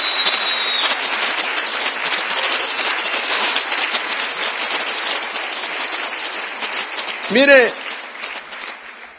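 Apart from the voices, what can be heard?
congregation clapping for the Lord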